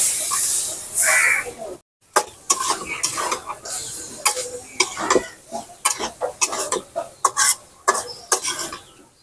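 A hilsa fish head sautés in a pan, a bright sizzle with repeated scraping and stirring strokes in an uneven rhythm, close and clear, with a brief cough near the start.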